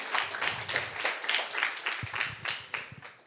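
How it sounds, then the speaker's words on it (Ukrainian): Audience applause for a speaker at a talk, moderately loud clapping in a loose rhythm that continues throughout, with a few low thumps partway through. "Оплески, оплески."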